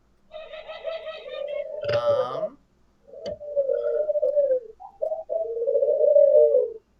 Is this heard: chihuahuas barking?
no